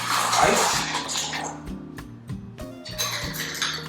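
Ice cubes clink and rattle as they drop into a cocktail glass at a home bar, a series of sharp knocks and jostling clatter under a voice talking.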